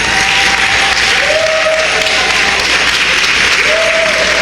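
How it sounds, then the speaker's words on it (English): Loud, sustained applause from a convention crowd at a reparations gathering in Washington, D.C., steady clapping throughout with faint crowd noise beneath. "Please give her a round of applause."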